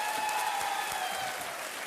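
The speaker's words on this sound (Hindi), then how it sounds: "बहुत बहुत तालियों के साथ इनका स्वागत किया जाए" A game-show studio audience breaks into brief, steady applause to welcome arriving guests, an even wash of clapping at moderate level with a faint tone running beneath.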